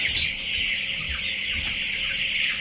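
Chickens on a farm clucking continuously, a close flock chattering steadily with overlapping calls throughout and no talk.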